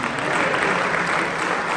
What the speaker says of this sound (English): Clap it up for my wife who made here too